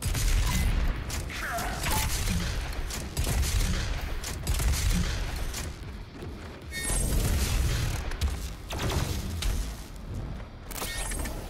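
Rapid, heavy gunfire from a shotgun in DOOM Eternal, repeated loud blasts and booms crowding together amid chaotic combat noise and mechanical clatter, sustained across the whole stretch.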